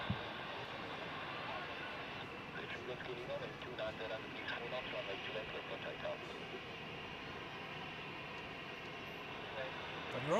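A jet airliner on short final to runway 14 at Zurich airport, heard from an observation deck as a steady, broad roar lasting throughout at moderate distance, with voices murmuring in the background.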